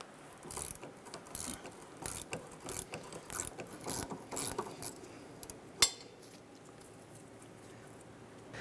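Rapid bursts of ratcheting clicks from a wrench working a rusted sway bar link bolt on a 1999-2004 Jeep Grand Cherokee, in irregular spurts, then a sharp metallic knock and quieter scraping.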